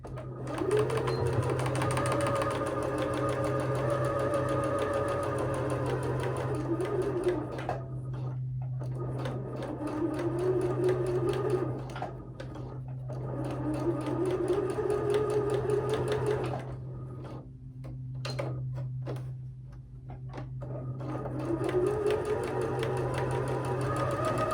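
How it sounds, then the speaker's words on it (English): A sewing machine stitches quilt pieces in a rapid, steady mechanical whir. Several long runs are broken by brief pauses and soft clicks, and the machine sounds close and clear. "I'm just gonna sew this up in a circular and back down the other"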